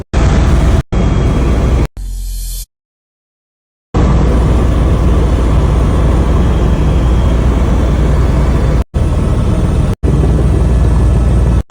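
A helicopter flies over Hawaii's volcanoes, its dense, loud rotor and engine roar filling the cabin steadily, broken by several abrupt cuts and one silent gap of a couple of seconds.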